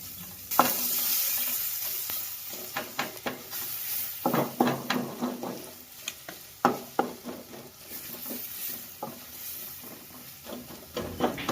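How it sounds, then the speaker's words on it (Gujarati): Sliced onions, green chili paste and curry leaves frying in a pan for masala dosa filling, with a continuous sizzle and repeated clattering stirs of a spoon against the pan, close and clear, no talk. "સ્લાઇસ કટિંગની ડુંગળી નાખી દઈએ. મિક્સ કરી અને પકાવીએ આપણે."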